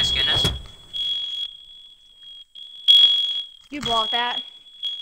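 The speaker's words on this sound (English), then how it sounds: "My fire alarm is on." A home smoke alarm sounds a sustained high-pitched tone that cuts in and out in long beeps, loud and close, while people talk over it and game audio plays in the background.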